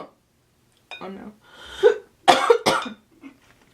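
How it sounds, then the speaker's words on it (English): Several close, harsh coughs come in a quick irregular cluster, with a short throaty sound before them and quiet breathing after. "Oh no, we're starting to cough."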